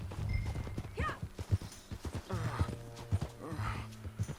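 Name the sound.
horse hooves clip-clopping while riding, from video game Red Dead Redemption 2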